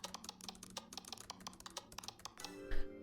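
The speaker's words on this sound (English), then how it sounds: "I started typing" Quick, uneven clicks of fingers typing on a computer keyboard, soft and close, running in short bursts before a brief tonal sound at the end.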